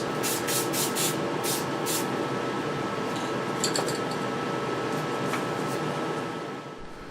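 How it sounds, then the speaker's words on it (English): Rattle cans of spray paint hiss onto foil in several quick bursts, followed by a steadier hiss and a faint metallic rattle, close and under a constant background noise. "select a bunch of different colors of rattle cans that I have and just randomly spray it on there"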